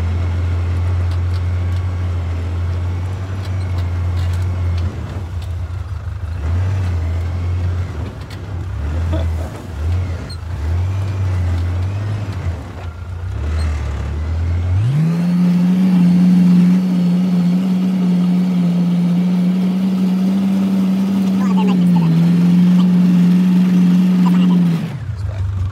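Steady car engine drone on a farm, a low continuous rumble that shifts pitch midway as the vehicle changes gear or speed, heard close with faint voices at times.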